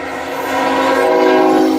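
A loud K5HL train horn blares steadily and continuously, a sustained multi-tone blast that swells slightly and holds, with no talking.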